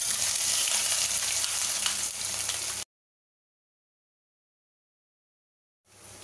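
Steady sizzling of garlic and ginger frying in hot ghee, loud and close for a few seconds, then sudden silence before the sizzle faintly returns.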